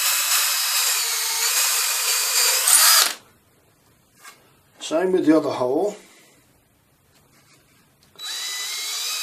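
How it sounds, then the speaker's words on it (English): A power drill bores holes for a drop-down clothes airer, whining loudly for a few seconds, stopping, then starting again, with someone speaking briefly in the quiet gap between bursts. "I'm checking, moving my head around to check that I'm drilling nice and vertically"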